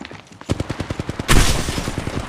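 Automatic gunfire in the mobile shooter Apex Legends Mobile: a rapid, evenly spaced string of loud close shots, with a heavier blast in the middle before the rattling fire carries on.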